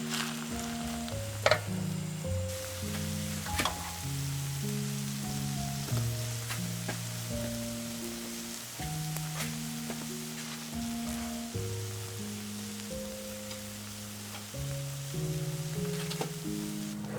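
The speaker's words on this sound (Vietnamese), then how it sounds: "Bật bếp cho dầu nóng, rồi mình cho mì vào." A soft, steady sizzle of instant noodles frying in hot oil in a pan, with faint crackles and occasional clinks, continuing quietly throughout over low background music.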